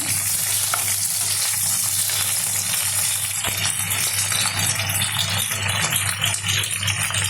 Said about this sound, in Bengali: এবার পেঁপেগুলো দিয়ে দিয়েছি, দিয়ে এবার নাড়াচাড়া করে নিয়ে